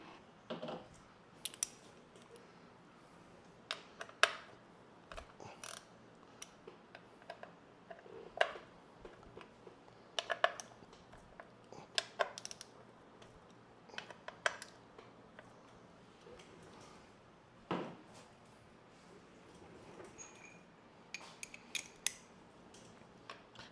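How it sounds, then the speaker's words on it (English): Primary cover bolts being removed from a 2023 Harley Davidson during an oil change, sparse metallic clicks and ratchet ticks scattered across a quiet garage, with no talking. "go ahead and remove the 5 bolts for the primary"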